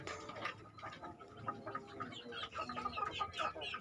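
Chickens clucking in a busy, continuous chatter, moderately close, with scattered sharper calls throughout.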